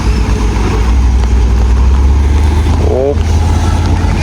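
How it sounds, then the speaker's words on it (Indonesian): Concrete mixer truck labouring along a muddy, rain-slick road at a pour site, its engine droning low and steady throughout with a brief rising whine near the end. "Ini agak berat juga ya untuk truk mixernya"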